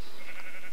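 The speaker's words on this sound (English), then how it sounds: "And there are so many goddamn sheep." A sheep bleats in Minecraft, a single short nasal bleat that is loud and close and stands alone.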